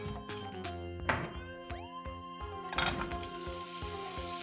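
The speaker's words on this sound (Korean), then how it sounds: "양파하고 당근 먼저 볶아줄게요" Onion and carrot stir-frying in a little cooking oil for a cabbage stir-fry, a steady close sizzle with a spatula scraping and knocking against the pan.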